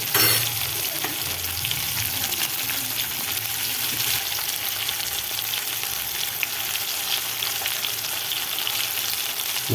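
Stuffed spiny gourd (kantola) fries in oil in a pan, a steady, dense sizzle holding at an even level for the whole stretch with no talking.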